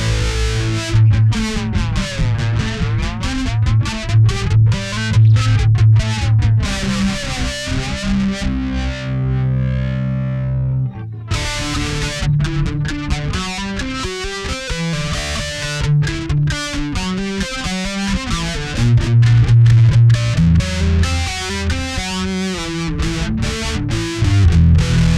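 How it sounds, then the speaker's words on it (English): Boss BF-2 flanger made in Japan, placed ahead of a distortion pedal, giving a loud, continuous jet-like whoosh that sweeps up and down over distorted guitar chords, with a brief quieter passage midway. "if you put it in front of some distortion, you can get that nice jet flanger sort of sound."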